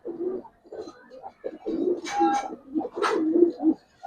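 Giribaz silver pigeons coo close by in a series of soft, throaty, repeated calls with brief pauses between them, heard clearly with no talking.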